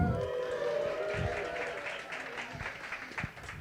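Applause from the audience at a Nerd Nite talk event, a steady wash of clapping of moderate loudness that fades slightly toward the end, with voices mixed in.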